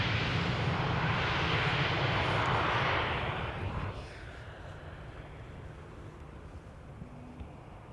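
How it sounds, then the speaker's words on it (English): Embraer 190 airliner arriving at Amsterdam Schiphol Airport, a loud broadband jet roar that fades after a few seconds into a lower steady engine rumble, heard from nearby. "Now, Embraer 190 arriving from Düsseldorf."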